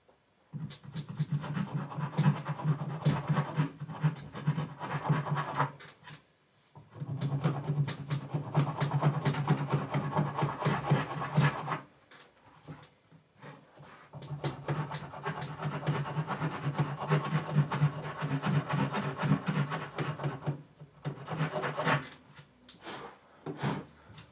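A wood rasp files the body of a Telecaster-style guitar in a rough, scratchy rasping, worked in three long spells of steady back-and-forth strokes with brief pauses between them, close and moderately loud.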